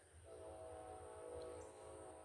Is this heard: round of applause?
no